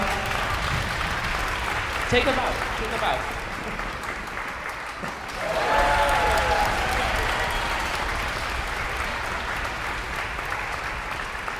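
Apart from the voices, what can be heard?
audience applause for Bella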